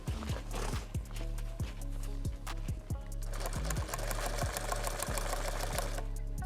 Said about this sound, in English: the machine will pull it through right against the zipper and it'll sew that whole line